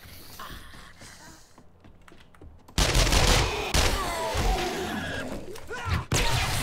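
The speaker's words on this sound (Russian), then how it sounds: "Тратим патроны на всех подряд." Gunfire in the zombie video game 7 Days To Die: scattered shots, then from about the midpoint a dense, loud, continuous burst of rapid fire that lasts to the end, with faint voices underneath.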